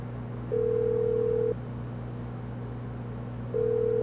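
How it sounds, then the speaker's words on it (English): In Grand Theft Auto Online, a phone call rings out on the in-game phone as two long, steady electronic ring tones, one after the other with a gap between, over a constant low game hum. "go ahead and open up your phone, go to contacts, and go ahead and request a job from Gerald"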